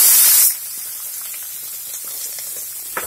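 Onion dropped into hot oil already holding cumin, while cooking a savory corn halwa, gives a loud burst of hissing sizzle at first, then settles into a steady softer crackling fry.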